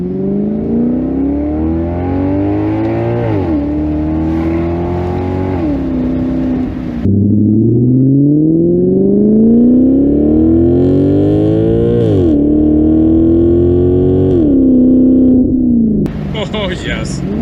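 A 2015 Maserati GranCabrio convertible engine revs and accelerates through manual gear changes, loud and close, with rising pitch sweeps broken by shifts and a brief drop to idle in between.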